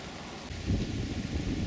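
Wind and light rain showers outdoors during air-rifle squirrel pest control, a soft, steady hiss with a low gusty rumble that swells slightly partway through.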